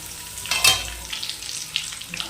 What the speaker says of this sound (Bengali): আর একটু ভেজে নেব এখন ভালোভাবে